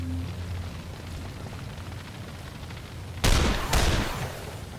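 Gunfire in the game The Lamplighters League: a low battle rumble builds, then two sharp, loud gunshot bursts crack close together near the end, with no voices.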